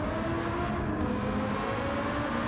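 A loud car exhaust in the racing game Gran Turismo 7, where an Italian Carabinieri police car in blue with white stripes drones with a steady, sustained engine roar and no talk over it.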